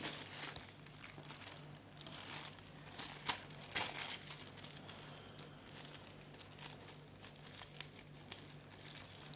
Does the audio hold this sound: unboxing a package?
yes